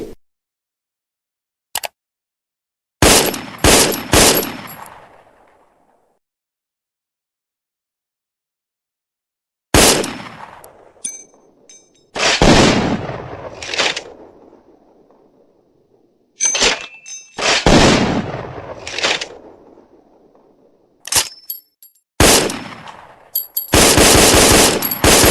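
An FN FAL automatic rifle fires in several loud bursts, from single sharp shots to longer rapid strings, separated by silent gaps, with echoing tails after each burst.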